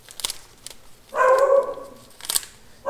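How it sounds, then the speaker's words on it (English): A pet dog barks once in the background, a short, moderately loud yelp set between faint tapping and rustling sounds. "Sorry about my dog barking in the background"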